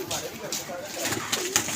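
Pigeons at a loft of a pigeon-keeping club coo softly in short repeated phrases, close by, mixed with people talking and moving about.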